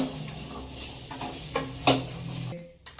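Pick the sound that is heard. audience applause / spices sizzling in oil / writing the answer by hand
spices sizzling in oil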